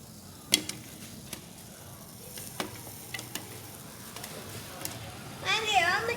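Buttered chocolate popcorn pops in a pot while being stirred, with scattered sharp pops over a low sizzle and the scrape of stirring near the end, with soft background noise.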